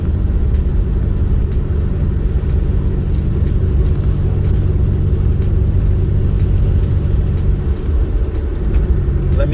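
A Toyota 2JZ-GTE engine idles roughly with a misfire, a loud, close, uneven low rumble broken by regular sharp ticks and stumbles, with a brief dip in the rhythm near the end.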